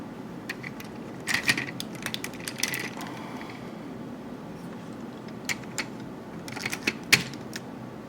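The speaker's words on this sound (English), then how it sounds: "Rotate the new fist in place, open that section up, and fold up Wing Saber's fist" Plastic parts of a Transformers Energon Wing Saber toy click and snap as they are folded and rotated into place, a series of sharp close clicks in small bursts with quiet gaps.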